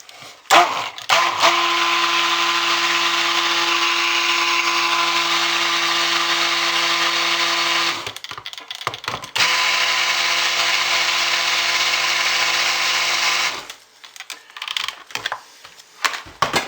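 A blender whirs while mixing a black raspberry truffle filling: a short burst, then a long loud steady run, a brief pause, a second sustained run, and scattered stop-start pulses at the finish.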